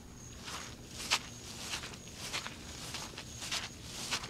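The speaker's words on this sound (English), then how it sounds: "Ooh, that's a lot of squish. This grass is just extra squish." Footsteps squish across waterlogged grass after a post-tropical storm, a steady walking rhythm of soft wet squelches close by, with no talking over them.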